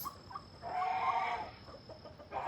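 Chickens clucking close by in a backyard pen, soft murmuring clucks and a longer warbling call, with a faint steady background hum.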